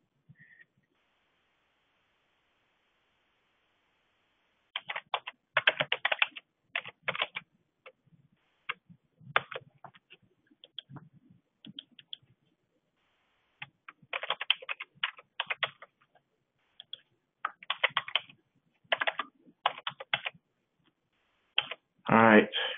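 Typing on a computer keyboard in bursts of rapid key clicks separated by silent gaps, close and moderately loud, with brief pauses between runs of keystrokes.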